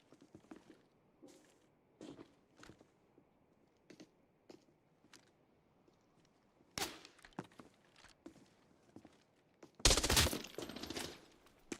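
Gunfire from a shooter video game, mostly scattered soft shots and thuds, then a loud burst near the end of a sharp, dense volley, with faint talk at times.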